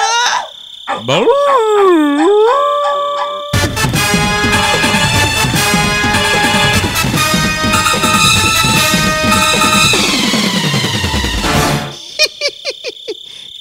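A man imitates a dog in a Malayalam political comedy skit, with drawn-out howling yelps at the start. Dense music and crowd noise follow, then a few short barking calls close by at the end.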